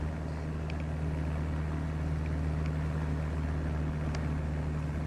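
A De Havilland Chipmunk's piston engine turns a fixed-pitch propeller with the RPM running a bit high, giving a loud, steady, unbroken drone with no talking.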